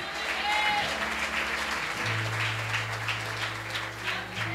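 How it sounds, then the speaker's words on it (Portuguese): A church congregation applauds for Jesus during a sermon, a dense, steady wash of clapping that runs throughout, with low sustained keyboard or organ tones underneath. "Se é para Jesus, aplaude"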